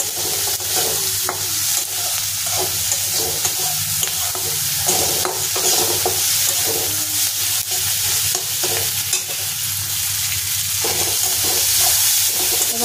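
Dry fish chutney cooks in a pan while chili powder is stirred through it, a continuous close sizzle with scraping stirring strokes throughout and no talk.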